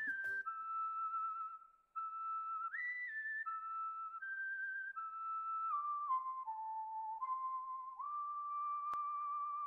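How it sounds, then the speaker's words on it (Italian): A cowboy-style whistled tune from the video game Yo-Kai Watch 3, a clear melody of held and sliding notes stepping up and down, loud and continuous for nearly ten seconds with no talk. "Quel fischietto rende tutto più verosimile."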